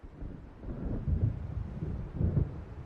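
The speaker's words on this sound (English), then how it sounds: "It seems there's a storm coming." Low rumbling thunder of a storm building over open water in the game Alan Wake, two deeper swells rising out of a steady windy roar, distant and fairly faint, with no voices.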